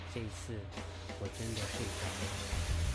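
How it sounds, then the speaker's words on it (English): Water runs from a tap into a basic plastic container of about a liter, a steady hiss rising in pitch as it fills, with someone talking over it. "You can probably hear the water running"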